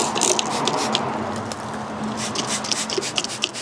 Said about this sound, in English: I'm just going to use a quick bit of detailing spray just to spritz down any areas where I've spilt some brake fluid.